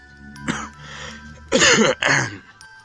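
A man clears his throat, then gives two harsh, close coughs in quick succession.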